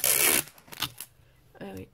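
A strip of sticky tape is torn off during paper crafting of a small presentation box: a short, sharp ripping burst at the start, then soft handling rustles and a brief voice.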